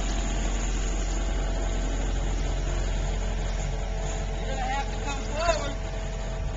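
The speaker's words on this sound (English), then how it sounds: "we just brought the pool up through the backyard, set the excavator on straps, getting ready to put it in the hole" An excavator engine runs at a steady idle-like drone while a fiberglass pool is lowered into its hole on straps in a backyard, continuous and fairly close, with a brief squeak near the end.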